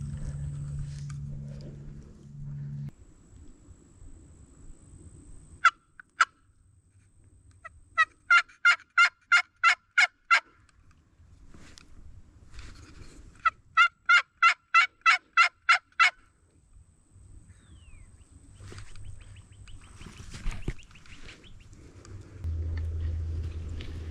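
An Osceola wild turkey in South Florida gobbles in two rapid rattling bursts a few seconds apart, carrying clearly over quiet outdoor background noise.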